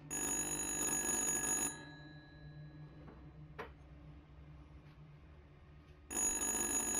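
An old telephone rings in a horror game, a loud electronic trill lasting about two seconds, then a quiet pause with faint ticks before the ringing starts again.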